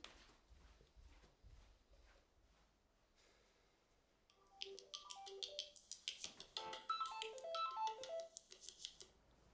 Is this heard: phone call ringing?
yes